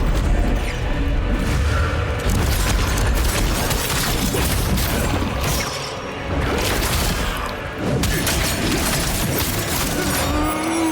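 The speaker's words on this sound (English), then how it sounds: "Explosion." Boss-fight combat in the action game The First Berserker: Khazan erupts in loud, dense blasts, crashes and metallic impacts, a continuous barrage of explosive hits with brief dips, filling the scene without talk over it.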